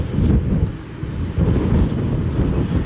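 Wind at sea on a cruise ship deck buffets the microphone in heavy, rumbling gusts, with a constant low roar and no voices.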